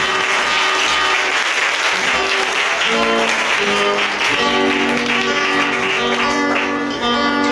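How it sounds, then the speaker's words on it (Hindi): Enthusiastic church worship audience applause fills the space, steady and loud, with sustained musical tones playing underneath. "जोरदार ताली बजाकर उसे वेलकम करिए"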